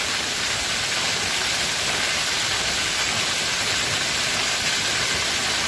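Spring water overflowing from a pond pours down a waterfall at Maşukiye, Sakarya, a steady, loud broadband rush that holds constant throughout with no talk.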